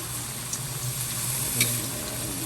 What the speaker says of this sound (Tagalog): Mahaluin na natin maigi yung toge.